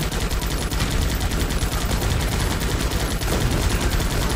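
Rapid, continuous gunfire from the top-down shooter Guns Up!, with dense overlapping bursts and explosions held at a steady, loud level throughout with no pauses.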